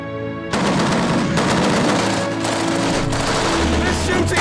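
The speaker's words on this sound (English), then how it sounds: "They're shooting again! They're shooting hard now!" Rapid automatic gunfire aimed at a white Evo at about 600 metres, a loud, dense barrage of overlapping shots that starts abruptly and keeps going without a break.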